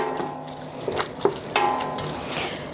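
Ground beef and Italian sausage browning in a hot pan as they are stirred and broken up: a bubbling sizzle broken by several sharp spoon scrapes and clacks against the pan.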